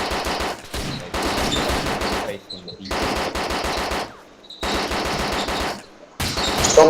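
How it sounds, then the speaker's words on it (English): Rapid automatic gunfire in a video game, loud and close, comes in several sustained bursts separated by short pauses. "Somebody's busting rounds off."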